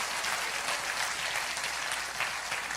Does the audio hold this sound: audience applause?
yes